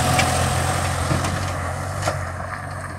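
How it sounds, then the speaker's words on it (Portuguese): A truck pulls in over a rough access road to a cattle fair in Guarabira, its engine a steady low rumble with a brief hiss partway through, heard alone without talk. "Aí mais um caminhão chegando."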